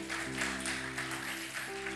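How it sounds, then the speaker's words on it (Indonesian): A church congregation at a Sunday evening service applauds in a steady, dense patter, heard briefly over a sustained low electronic tone. "Tepuk tangan."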